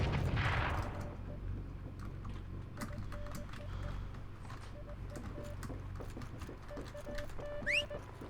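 Gunfire in the video game Heroes and Generals rattles as scattered shots and bursts under a steady battlefield rumble, with a whistling tone near the end.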